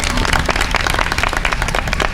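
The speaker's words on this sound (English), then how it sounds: "Can we give her a round of applause?" An audience gives a round of applause at a child care safety awareness event, with dense, steady clapping that holds loud and even throughout, without a break or any voice on top.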